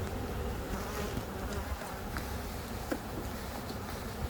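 Honey bees from a package swarm buzz steadily and densely while being installed into a hive, a continuous close droning hum with no talk.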